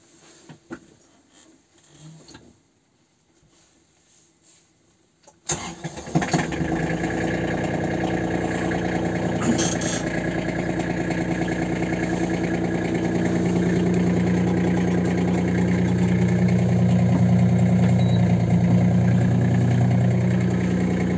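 After quiet handling noises, the small engine of an ISEKI GEAS AT33 33 hp mini tractor cranks and catches, then settles into a loud, steady idle that runs on continuously.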